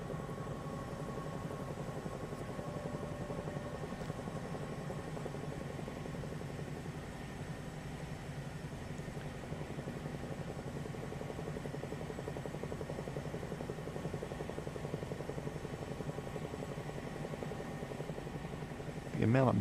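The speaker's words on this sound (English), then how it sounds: "Let's turn the afterburners on this Airwolf real quick." Airwolf helicopter in Microsoft Flight Simulator 2024, a steady, continuous rotor and turbine drone held at even loudness throughout, with a brief louder surge at the very end.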